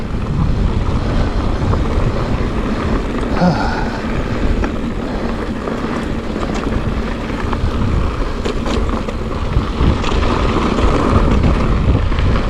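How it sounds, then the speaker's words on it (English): Wind gusting across a mountain summit at about 6,500 feet elevation; loud, constant rushing buffets the microphone for the whole stretch with no breaks and no voices. "A little bit windy"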